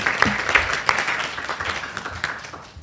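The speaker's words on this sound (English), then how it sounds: "Please give him a round of applause." A small crowd claps steadily for a few seconds, fairly soft and slightly distant, tapering off toward the end.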